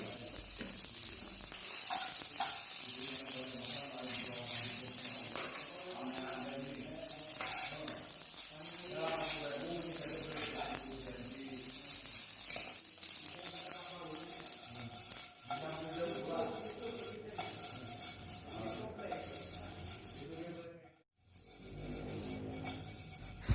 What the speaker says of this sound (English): Add the rice to the pan and then stirring again.